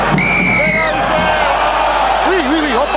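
Rugby stadium crowd at a Perpignan versus Clermont match roars and cheers loudly as a player charges forward, with whoops rising over the dense crowd noise and a commentator talking over it.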